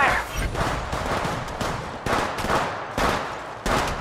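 Video game gunfire in a multiplayer shooter, rapid bursts of shots that fill the whole clip with repeated sharp onsets, alongside faint voices.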